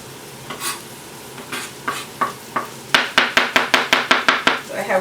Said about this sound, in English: And now I'm going to go ahead and add my cilantro.